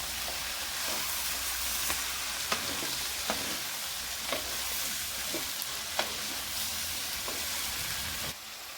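Four small-chopped tomatoes sauté in a pan for pirandai chutney, giving a steady close sizzle broken by occasional light clicks and scrapes of stirring, with no one talking.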